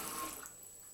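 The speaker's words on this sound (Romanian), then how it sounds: "Oprește apa, mama, oprește-o." Water runs from a tap into a kitchen sink as a brief, faint hiss that fades out after half a second.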